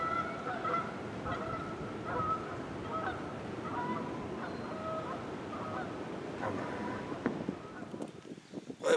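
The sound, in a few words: geese honking while flying over river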